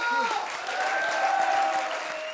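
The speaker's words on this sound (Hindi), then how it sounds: "एक बार जोरदार तालियां इनके लिए" Studio audience applause on a comedy stage show, a broad steady wash of clapping with tonal music or voice lines running over it, close and fairly loud for a couple of seconds.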